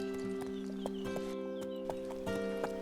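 Hooves of Apache, a horse among wild horses in an animated scene, clip-clop in a brisk uneven rhythm over sustained tonal background music, moderately close.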